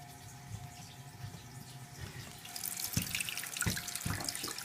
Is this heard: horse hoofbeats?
no